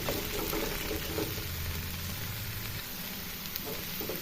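Okra (bendakaya) pieces frying in hot oil, a steady close sizzling hiss that continues evenly throughout with no talking.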